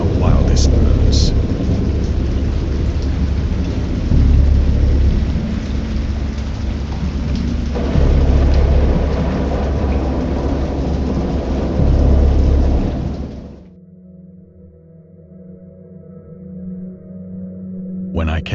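A thunderstorm in the video game Dagon: heavy rain pours steadily with deep rolling thunder swelling and fading over it, loud and continuous, before the storm cuts off and a quieter low hum remains.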